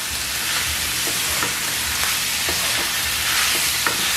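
Meat and tomato sauce stirred together in a hot pan for supreme nachos, a steady sizzle with soft scraping strokes of the spoon running throughout, close and continuous.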